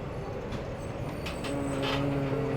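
The Tutari Express, Dadar–Sawantwadi, rolls at a crossing near Bhoke station with a steady rumble and rising wheel noise, heard from on board with no speech.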